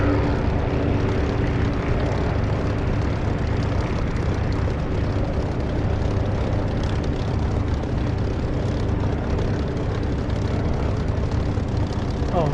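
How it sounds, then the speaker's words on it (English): In the DCS flight simulator, a Bf 109 fighter plane roars continuously and loudly as it takes off, with a steady droning engine and propeller noise throughout. "Nils has just taken off, I noticed, in a 109"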